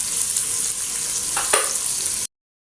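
Garden eggs frying in oil with onion and tomato give a steady, close sizzle with a brief stir-like clatter near the middle, ending abruptly in silence.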